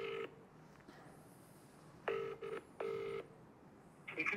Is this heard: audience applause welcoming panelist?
no